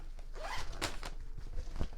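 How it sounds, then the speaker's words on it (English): A zipper on a bag is pulled in a few quick, rasping strokes, close and fairly quiet, with a soft rustle in between. "It has like 2 zippers and a snap."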